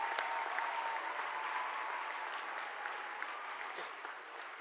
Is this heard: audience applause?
yes